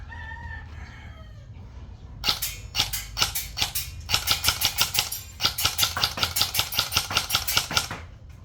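A Zion Arms AR15 rifle fires full auto, sharp rapid bursts of close gunshots in quick rhythmic strings after a brief quiet lead-in.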